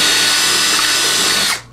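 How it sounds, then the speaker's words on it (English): A power drill fitted with a 1/4 inch bit bores into a wall to make an anchor hole while a doorbell is put up. It gives a loud, steady, close whine for about a second and a half, then abruptly winds down. "Now I'm going to use the 1/4 inch drill bit to make a hole big enough for the anchor."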